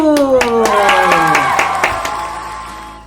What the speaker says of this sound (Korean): 우리 함께 하나님께 박수로 영광 올려드리도록 하겠습니다